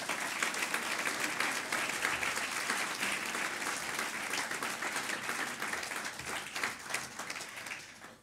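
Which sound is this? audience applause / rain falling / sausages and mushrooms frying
audience applause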